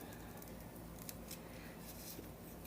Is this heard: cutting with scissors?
yes